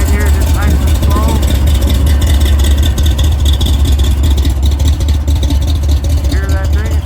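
Low, steady rumble of a 1935 Ford coupe street rod engine idling nearby, continuous and loud throughout, with people talking over it.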